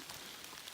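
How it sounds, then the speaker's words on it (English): Steady rain falls on the Appalachian Trail, a dense, even hiss of drops pattering on surfaces close by with no pauses or voices. "It's still raining."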